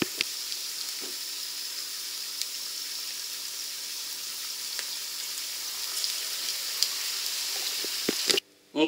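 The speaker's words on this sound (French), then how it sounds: "Quand l'huile est bien chaude, on les prend une par une et on les trempe dans l'huile" Mackerel skin chips crackle in hot frying oil with a dense, steady sizzle and scattered pops; the sizzle cuts off abruptly near the end, then briefly resumes.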